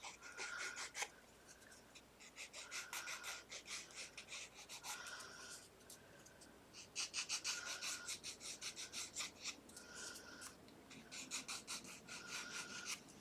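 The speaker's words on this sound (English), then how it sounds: "we're just going to rub that around the edges" Blue colour is rubbed around the edges of paper in quiet, repeated bursts of soft, close scratchy strokes with short pauses between them.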